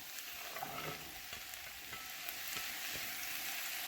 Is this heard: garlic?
yes